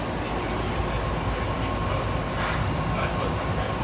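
The DFW Airport Skylink automated people-mover train pulls away with a steady, loud rumble and hiss of rolling wheels and motor noise heard from inside the car.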